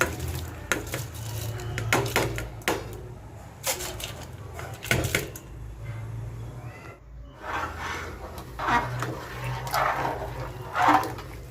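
A ladle stirs soaked moong dal and rice into boiling water in a pot for pongal, giving scattered metallic clinks and scrapes with a soft bubbling hum underneath, and a brief pause partway through.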